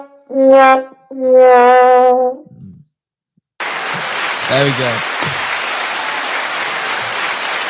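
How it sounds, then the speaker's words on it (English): A live audience at a talk on science and Creation in Genesis breaks into a sustained round of applause, a dense, even clatter following a few seconds of a voice and a brief silence. "I think that deserves a round of applause"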